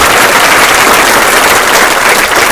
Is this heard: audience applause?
yes